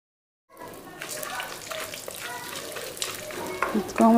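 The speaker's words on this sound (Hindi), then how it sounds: "जो चारों गूंद है उसको हम फ्राई कर लेंगे" Edible gum (gond) frying in ghee in a pan, a sizzle that starts abruptly after a brief silence and holds steady, with stirring scrapes and clinks growing louder toward the end and faint speech underneath.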